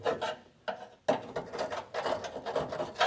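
A screwdriver scrapes and probes along solid metal on an old car body in a garage, in a series of short, close rasping strokes with brief pauses between them.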